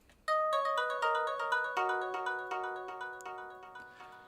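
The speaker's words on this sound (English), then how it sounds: "Does sound a bit like a ringtone from 10 years ago now" A bright, bell-like synth patch in Cubase with delay plays a quick sequence of plucked notes, each echoing and fading away, like an old mobile ringtone, clear and alone.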